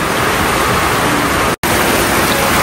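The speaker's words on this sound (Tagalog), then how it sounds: "ang bilis pumasok ng tubig" Water rushes in fast, a loud, steady broadband roar that briefly cuts out near the middle and then resumes at the same strength.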